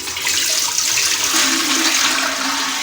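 Water pours from a jug into a large cooking pot while making chicken biryani, a loud, continuous gushing splash that fills the short span without pause.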